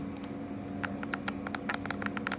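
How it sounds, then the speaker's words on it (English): Sharp mechanical clicks, close and crisp, tap out in an irregular run over a low steady hum, like a trigger being pressed repeatedly. "you get like kind of like this mouse click mechanical type sound from it"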